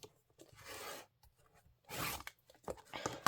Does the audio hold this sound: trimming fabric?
yes